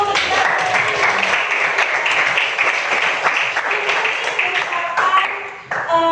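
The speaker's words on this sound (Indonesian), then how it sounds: "Ya, tepuk tangan dulu." A classroom of students claps and applauds for poetry they have written, dense steady clapping that fills the room, with a teacher's voice talking over it.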